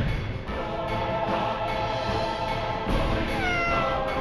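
A cat meows in a few drawn-out, wavering calls, fairly close and clear over a steady hum of background noise, with no talking.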